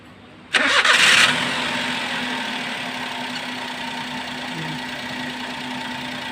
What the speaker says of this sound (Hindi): गाड़ी स्टार्ट करो।